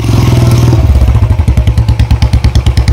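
A motorcycle is moved onto a boat by boatmen on a trip to Mousuni Island, its engine loud and close with a steady thumping idle, a brief heavier rev at the start, then a rhythmic pulsing chug.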